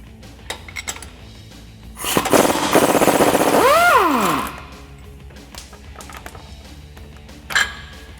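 An 18 mm socket wrench works a shock bolt loose on a Jeep Wrangler JL, a burst of rapid ratcheting clicks for about two seconds followed by a metallic squeal, with scattered light clanks before and after.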